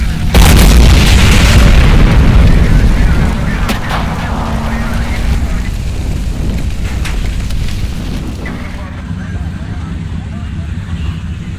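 Heavy booming blasts from a Russian tank cannon in the video game Combat Mission: Black Sea, loud at first and then repeating as sharp reports over a continuous low rumble and battlefield noise.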